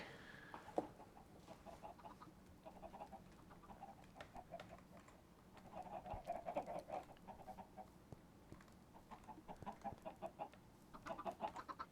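Minecraft chickens clucking repeatedly in short irregular bursts with scattered patter of game sounds behind them, moderately close and steady through the whole stretch, no talking.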